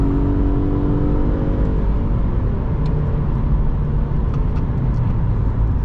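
Engine of a 2006 Subaru Legacy 2.0 running on LPG, held loud and close near its rev limit from inside the car, a strained steady roar with shifting harmonic tones.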